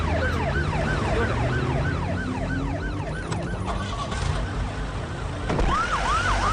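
An ambulance siren wails in repeated rising-and-falling sweeps over a steady rumble of road traffic, loud and close throughout, with a fresh cycle of wails starting near the end.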